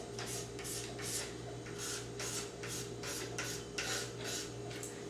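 Old thermal paste being scraped off PS3 console parts and fan, a steady rhythmic rasping in repeated strokes against a constant electrical hum, close and moderately quiet.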